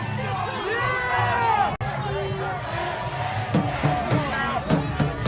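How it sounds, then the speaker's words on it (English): Chaotic crowd surging after a man, a loud dense mass of shouting, yelling and excited voices overlapping throughout, with a brief cut partway and scattered sharper shouts near the end. "And there's chaos as the crowd follows him."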